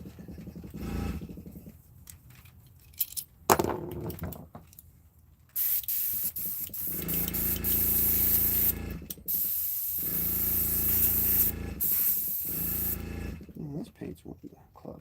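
Aerosol spray paint hissing onto handmade wooden fishing baits, long steady bursts with brief pauses, close and fairly loud, with a few scraping or handling noises between sprays.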